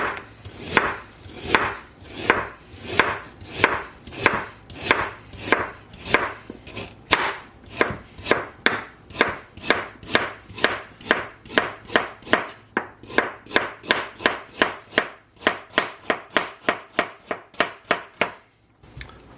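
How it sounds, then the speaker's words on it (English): A knife slices a vegetable for vegan soup on a cutting board in a long, steady run of crisp, evenly spaced chops, close and clear with no talking. "I'm going to slice it just like I did with the carrot"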